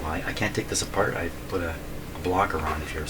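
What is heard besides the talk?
No distinct noise like a dog, phone or traffic.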